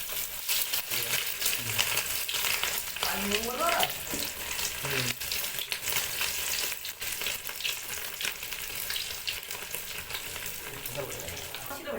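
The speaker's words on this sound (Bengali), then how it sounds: "দুটো ডিম ভাজা হয়ে গেল, এখানে দুটো ডিম, আবার একটা ফ্রাই হবে" Two eggs frying in a pan of oil while potatoes are cooked, a dense continuous sizzle with occasional scraping and stirring clatter, steady and close throughout.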